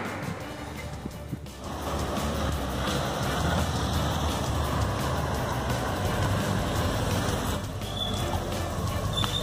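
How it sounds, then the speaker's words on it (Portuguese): Cars and trucks climbing a hill in Araçatuba, Brazil, forming a steady broadband rumble of road traffic that stays fairly constant throughout, with a brief dip early on and no clear talk. "Olha lá subindo os carros"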